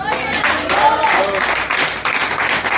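A congregation at a church anniversary service claps in praise. The applause is moderately loud and close, with mixed voices and a few sharper individual claps.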